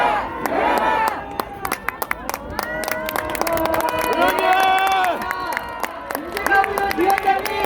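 A crowd at an outdoor protest rally against the Fukushima contaminated water release claps and cheers loudly and steadily, with sharp individual claps and shouts standing out over the sustained applause.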